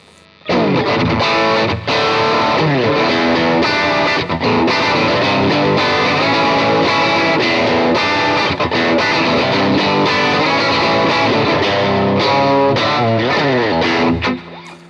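A heavily distorted vintage-style Kazuki Relic Stratocaster electric guitar plays thick, sustained chords loudly and continuously for most of the clip, with no talking.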